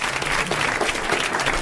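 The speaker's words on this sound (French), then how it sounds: "alors je vais vous demander d'applaudir Monsieur Méan de Non." A television studio audience on a 1981 French variety show bursts into loud, sustained applause with no break, a close wash of many hands clapping at once.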